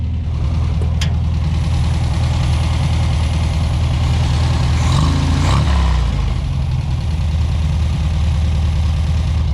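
The engine of a Baja Bug runs steadily off-road with a loud, continuous rumbling drone and a brief surge in the middle, close and alone without talk.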